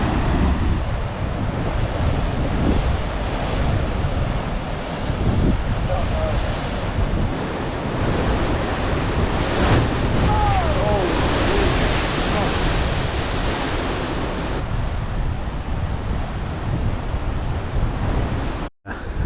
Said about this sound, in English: but there's more waves coming.